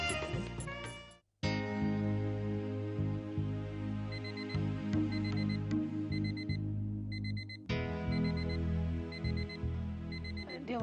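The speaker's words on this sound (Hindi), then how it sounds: "अलार्म बज गया।" An alarm clock rings loudly with a dense, continuous electronic tone and repeating beeps, stopping briefly twice before starting again.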